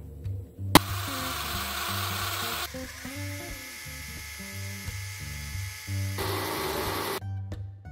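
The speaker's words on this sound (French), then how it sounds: "Je veux fouetter une première fois" An electric whisk whips cream, a high steady whirring drone close by with shifting tones as the beaters move through the bowl. The sound runs almost without pause, with one sharp knock early on and no talk.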